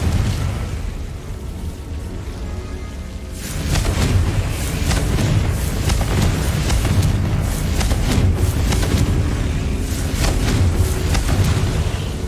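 Confringo and Bombarda spell explosions in Hogwarts Legacy, a rapid run of booming blasts and bursting pops layered over a rumbling low roar that grows louder a few seconds in and stays dense to the end.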